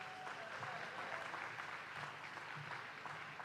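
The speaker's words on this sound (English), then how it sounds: "I think we should applaud him as well." An audience at the Cerebrate Africa 2015 event applauds, a steady sustained patter of clapping from a crowd in a hall, moderately distant and even throughout.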